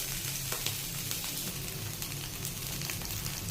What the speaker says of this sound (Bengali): পনিরগুলোকে আমি ভাজতে দিয়ে দিলাম, একটা হালকা লাল লাল করে ভেজে নেব।